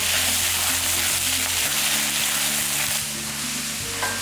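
Tomato, onion and curry leaves sauté in a hot pan, giving a dense, close frying sizzle with a low steady hum underneath and a few faint stirring scrapes, with no voices.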